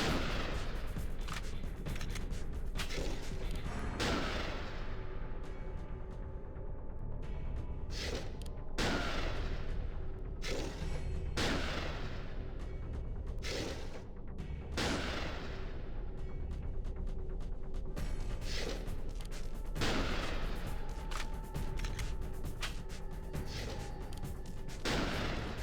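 Gunfire in a video game: repeated heavy shots and booming blasts recur at irregular intervals over a steady loud background of game noise, close and dense throughout, with no clear talking.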